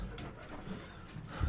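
Soft, low cooing of pigeons comes through faintly amid a quiet background hum, with a louder thump at the end.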